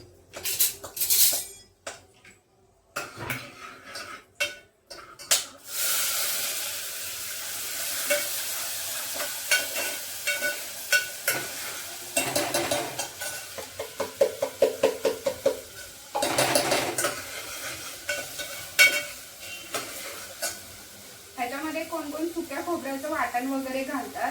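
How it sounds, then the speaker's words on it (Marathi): Onion, curry leaves and whole spices fry in a pan for Kolhapuri misal pav, sputtering and sizzling with intermittent stirring and scraping, broken by gaps and clatter of utensils, with someone talking over it. "कढीपत्ता अख्खे मसाले घालायचे नंतर हा कांदा घालायचा आहे"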